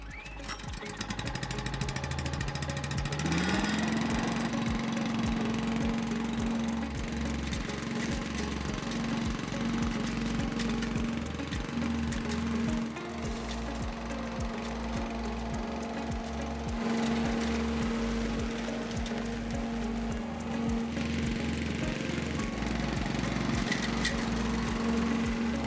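A Cobra WV580SPL wheeled petrol vacuum's engine starts and settles into a steady, loud running drone close by, with a rising pitch as it catches, then a constant hum with slight fluctuations and no talking.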